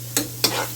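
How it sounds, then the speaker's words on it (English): Onion and garlic cooking in a pot, two quick stirring scrapes about a quarter second apart over a faint, steady sizzle. "just cooking the onion till it's soft."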